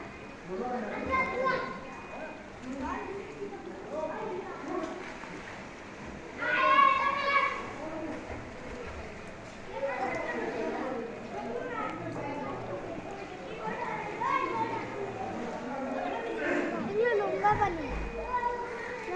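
Children playing and swimming in flood water in Sylhet during Eid, with a steady stream of children's voices and lively chatter, some louder shouts rising midway and toward the end.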